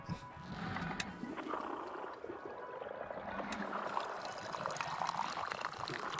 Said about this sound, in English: All right, let's pour her out.